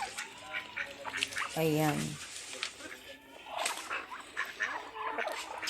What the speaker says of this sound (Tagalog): Pato